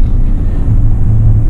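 A 2019 GMC Denali truck driven in sport mode, giving a low steady engine rumble with road noise, close and continuous from inside the cab.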